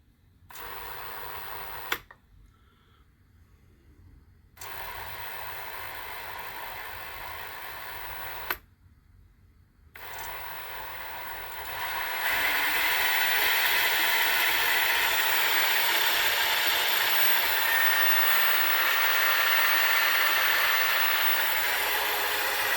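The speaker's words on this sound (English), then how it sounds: "So I plugged it in, turned it on, and it works. The motor spins." A newly installed spindle motor runs with a steady whine and hum, interrupted by two brief silent gaps, then grows louder and brighter as it keeps spinning, with no talk.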